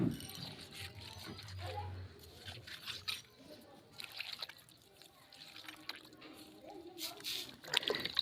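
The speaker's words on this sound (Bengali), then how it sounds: "এরকম ঘষে ঘষে কয়েকবার ধোয়ার পরে এর গায়ে যে লালা টাইপের আছে সেটা পরিষ্কার হয়ে যাবে" Singhi fish are rubbed and washed in water, giving soft, close splashing, squishing and trickling with irregular drips, fairly quiet and without talk.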